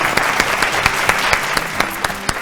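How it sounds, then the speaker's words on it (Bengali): A studio audience at a Bengali family game show breaks into loud, sustained clapping, with crisp individual claps standing out against the dense roar of hands. "জোরে হাততালি"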